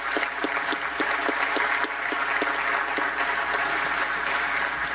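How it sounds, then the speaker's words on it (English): Audience at a closing ceremony applauds steadily throughout, a dense, even wash of clapping from a large hall crowd with no speech over it. "I think we need to give a round of applause for this"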